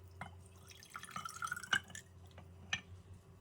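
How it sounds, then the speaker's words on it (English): Homemade chili oil pours into a jar with soft intermittent trickles and small drips, plus a brief clink of glass near the middle, close and quiet against a low background hum. "So I'm going to pour it into a jar."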